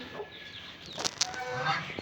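Pet ducks and chickens kept at a home, with chicks nearby, calling in a few close clucking and squawking bursts over steady background noise.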